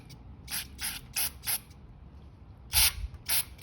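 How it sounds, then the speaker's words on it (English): Aerosol cleaner sprayed into the carburetor jet of a 1991 Murray lawn mower: four short hissing bursts, a pause, then two more longer blasts, close and loud with nothing else heard. "So let's spray in there and see what we, clean out the junk that could be in there."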